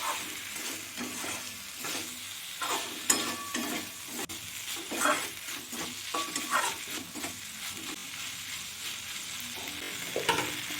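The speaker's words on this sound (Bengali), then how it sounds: "ভেজে রাখা ঢ্যাঁড়স আর আলু আমি দিয়ে দেব। মশলার সাথে আমি ভালো করে নাড়িয়ে চাড়িয়ে নিচ্ছি।" Fried okra and potatoes stirred with spices in a hot oiled pan, with a steady sizzle under repeated close scraping strokes that keep an even rhythm for the whole stretch, and no voices.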